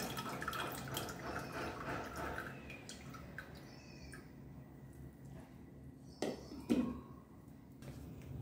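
Buttermilk drips and trickles softly as it is poured off homemade butter, thinning to scattered drops, with a couple of louder splashes near the end.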